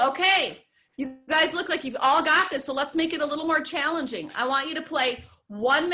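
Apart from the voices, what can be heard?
No everyday noise stands out behind the speech.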